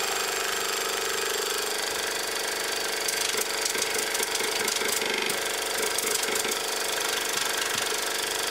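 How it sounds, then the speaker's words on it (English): A small 1/3 horsepower piston air compressor with an eccentric drive and cooling fan runs steadily throughout, a loud continuous motor drone with a rhythmic knocking rattle, no voices. "Just a small motor, I guess about a 1/3 horse. Little fan this end, and well, eccentric and piston and a filter."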